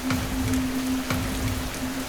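Heavy rain pours steadily on a thatched shelter on a dark night, a constant close hiss with a faint low hum beneath and no voices.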